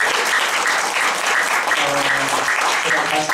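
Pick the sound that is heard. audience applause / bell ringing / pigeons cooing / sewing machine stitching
audience applause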